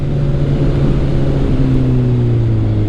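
A motorcycle on Michelin Power GP2 tyres accelerates along a public road with the throttle opened, producing a loud, close, steady engine drone whose pitch gradually rises, mixed with rushing wind noise.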